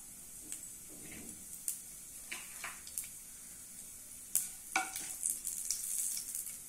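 Chana dal and dried red chilies sizzle quietly in hot oil in a pan, a soft steady fry broken by sharp clicks and scrapes of stirring.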